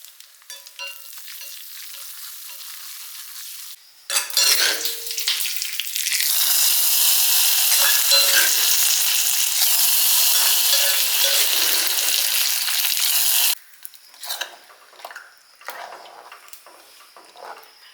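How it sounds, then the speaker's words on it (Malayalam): Mustard seeds hit hot coconut oil in a small pan for tempering, with a quiet hiss before and after a loud, dense crackling sizzle that holds steady for about ten seconds. "നമ്മൾ ഈ ചെറിയ ചട്ടിയിൽ വെളിച്ചെണ്ണ ഒഴിച്ച് അതിലേക്ക് നമുക്ക് വെളിച്ചെണ്ണ ചൂടായി കടുക്,"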